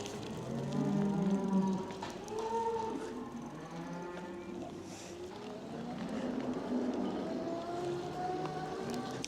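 Cattle in a field give several long, low moos that overlap and drift in pitch, heard at moderate distance over a steady whir and windy background, with no talking.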